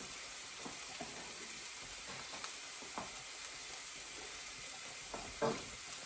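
Green chilies frying with translucent onions in a pan give a soft, steady sizzle throughout, with a few faint stirring clicks and one brief louder scrape near the end.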